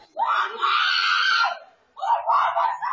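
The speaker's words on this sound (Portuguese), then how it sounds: "Os gritos de socorro da vítima foram registrados por uma câmera de segurança." A woman screams for help during a domestic assault, caught by a security camera: two long, loud, anguished cries separated by a brief pause.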